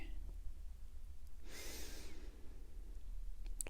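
A single slow, deep belly breath during a mindfulness meditation, a soft airy rush heard close but faint against a quiet low hum.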